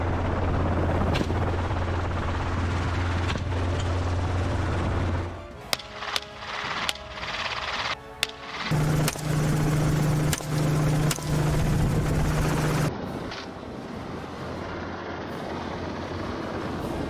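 A helicopter flies over a Texas wild hog hunt, its loud continuous rotor thrum and engine roar dominating throughout, with several sharp gunshot cracks in the middle, no talk.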